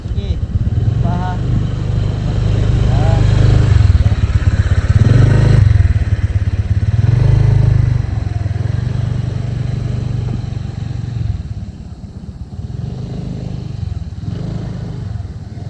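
A small new motorcycle ridden by a woman learning to ride, its engine humming steadily at low throttle up close, with a voice coaching her throughout.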